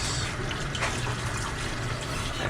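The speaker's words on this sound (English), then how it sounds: "Get it good and hot in here. Some nice warm water." Warm tap water runs steadily into a sink to rinse a neon rainbow spiral tie-dye tee, a constant close hiss and gush with no pauses and no voices.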